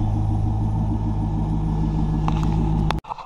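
A Corvette C5 idles just after starting, a steady, moderately loud engine drone with a firm low hum, cut off abruptly near the end by a few clicks.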